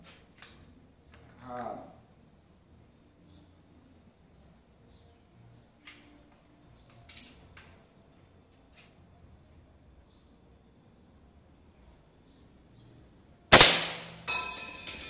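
A Samyang Dragon Recluse .357 PCP air rifle fires a single sharp, loud shot near the end, trailing into a brief ringing decay after mostly quiet handling noise.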